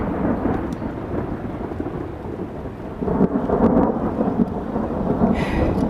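Thunder rumbles through a thunderstorm with steady rain, a low continuous roll that swells louder in the second half, heard alone with no voices.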